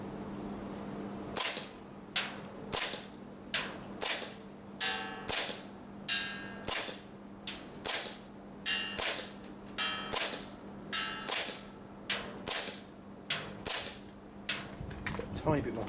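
An airsoft gas blowback gun fires .3 gram BBs at a target, about twenty sharp snapping shots at an uneven, steady pace, each with a short mechanical clack, close and loud with no talk.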